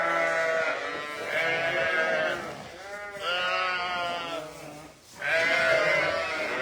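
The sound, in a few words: lambs bleating on a farm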